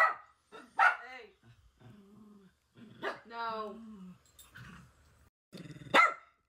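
A puppy barks in a few sharp, separate bursts with low growling between them, close and fairly loud, while people talk nearby at a home where a roof was being redone.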